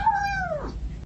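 A single cat meows in a short, falling cry that slides downward and fades, heard close and fairly loud in a funny cat compilation, with no talking over it.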